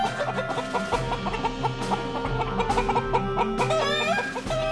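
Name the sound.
chickens clucking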